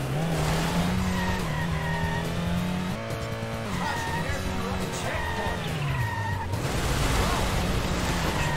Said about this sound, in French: je tourne d'un seul coup assez fort et la voiture dérape beaucoup plus et surtout perd beaucoup en vitesse